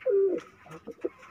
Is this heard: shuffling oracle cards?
no